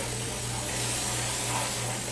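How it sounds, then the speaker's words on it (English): Steady hissing spray of cooking spray into a pan, broadband and continuous for about two seconds, close by, with a low hum underneath and no talking. "I'm going to get my cooking spray."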